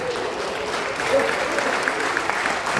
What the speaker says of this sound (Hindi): सांस लो, ताली बजाओ।